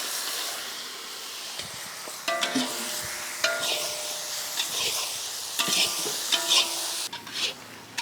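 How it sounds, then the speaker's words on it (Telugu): Chicken fries in oil with ginger-garlic paste, turmeric, chili and garam masala for a pumpkin biryani, giving a loud, continuous sizzling hiss with intermittent stirring scrapes and metallic clinks close by. "మసాలాల్లో చక్కగా చికెన్ని ఒక 10 నిమిషాల పాటు వేగనిచ్చాక"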